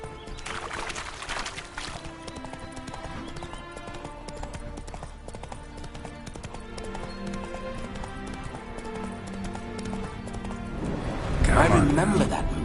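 Steady clip-clop of a horse's hooves running throughout under background music in The Witcher 3: Wild Hunt, with a louder burst near the end.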